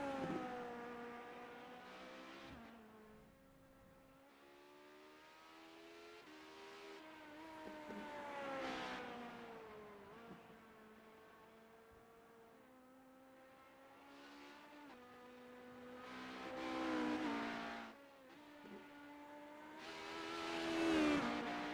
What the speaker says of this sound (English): Carl Handwork here in the number 18 Joka Graphics car is on his out lap